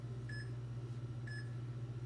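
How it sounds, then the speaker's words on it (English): Two short, faint electronic beeps from a workout timer's countdown sound about a second apart over a steady low hum in a quiet room. "I'm gonna get my timer going. It has a 10-second countdown"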